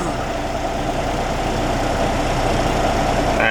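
A vacuum truck's engine idles with the park brake set, giving a loud, close, constant low rumble with a steady mechanical drone. Nothing else stands out over it.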